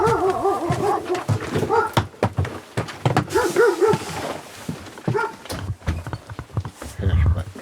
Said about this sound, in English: It's a small black dog, happily wagging its tail.